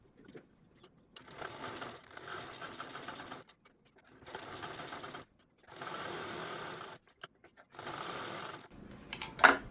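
A sewing machine stitches the edges of a fabric shopping bag in several loud, close runs of rapid whirring, each broken by short pauses, with a faint click at the end.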